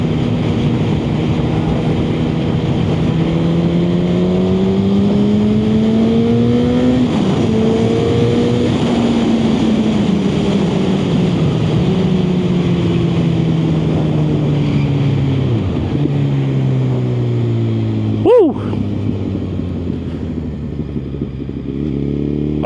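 A motorcycle being ridden on the first outing of the season on new tyres, engine pitch rising and falling through gear changes over strong wind rush, continuous and close.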